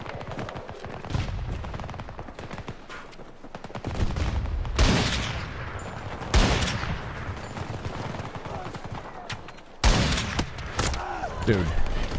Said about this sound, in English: he just comes right around the corner and starts shooting at me